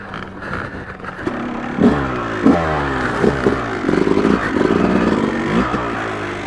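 A Yamaha YZ250 two-stroke dirt bike without electric start idles and revs on a trail, its engine rising and falling in close, loud bursts with rattling clatter between throttle blips.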